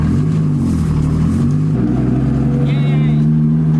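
A car engine drones steadily up close, its pitch shifting once partway through as the driver works the clutch for the first time, with people talking over the motor.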